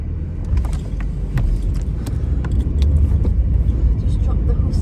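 Car interior while driving, a low steady engine and road rumble with faint rattles, heard under a person talking.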